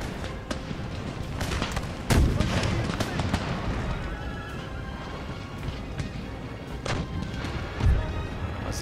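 Artillery fire breaches a fortress wall in Empire: Total War, with heavy crashes and booming impacts over a constant din of battle noise, horses and distant commotion, with a couple of louder blasts standing out.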